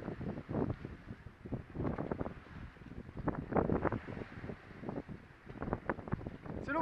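A sailboat beating close-hauled at about five knots through a rough, formed sea in 25-knot wind off Cavalière, with wind buffeting the microphone and irregular bursts of water rushing and slapping against the hull throughout.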